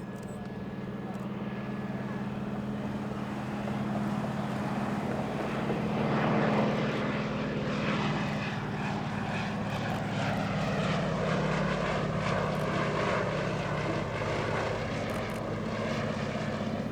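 A Fairey Swordfish biplane with its Bristol Pegasus radial engine drones through display flying, a continuous propeller hum that swells and shifts in pitch as it turns overhead.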